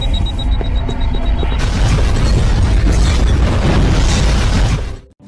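A bomb blast in an action film thunders as a loud, sustained rumbling boom with dense low-end roar that holds for about four seconds before cutting off abruptly into silence.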